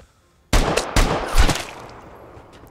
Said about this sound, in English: Killed one guy with the SVD.